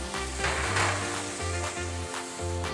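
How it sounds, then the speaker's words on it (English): Vegetables sizzle hard in a hot skillet as they char, a steady close hiss rising and falling with brief stirring scrapes, with no talking. "You will hear how the sizzling starts, strengthens, and then starts fading down"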